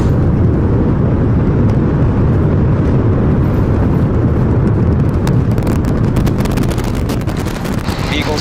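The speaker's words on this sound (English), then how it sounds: "We have liftoff. Go Super Heavy. Go Starship." SpaceX Starship Super Heavy rocket lifting off from Pad 1, a loud, continuous, rumbling roar with crackling texture that stays dense and powerful throughout.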